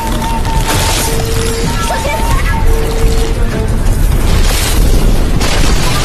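An animated giant black sea-king snake smashes through mounds of ice, making continuous loud rumbling booms and crashes under a talking voice.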